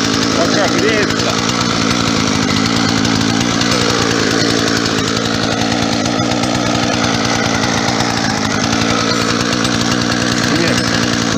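Husqvarna 120 Mark II chainsaw idling while warming up after a first start, a loud steady close engine rattle throughout, with someone talking over it.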